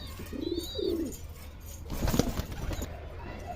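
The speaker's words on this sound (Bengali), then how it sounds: "আমার কবুতর গলা কেমন লাগলো" Madrasi pigeons cooing at home: soft low throaty coos in short rolling phrases close by, with a few faint chirps and a brief flutter, then a burst of louder cooing toward the end.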